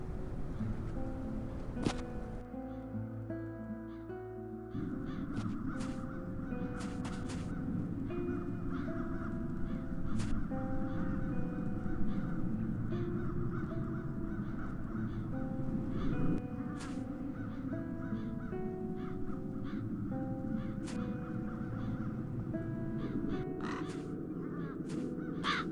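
Crows caw repeatedly in the video game The Dark Eye: Chains of Satinav, harsh calls recurring at irregular intervals over a sustained ambient game soundscape.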